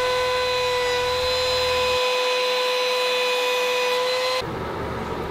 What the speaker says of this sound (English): run a small chamfer around the front edge towards the artwork